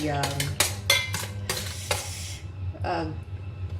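Char siew sauce stirred as it thickens in a pan, a utensil scraping and tapping the pan in quick repeated strokes over a steady sizzling bubble, close up.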